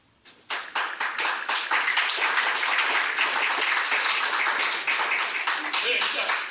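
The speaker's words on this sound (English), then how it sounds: "Yeah, he got claps for being a doctor." Steady audience applause rises quickly and holds as a dense wash of many hands clapping for about six seconds, close and loud, with no voices on top.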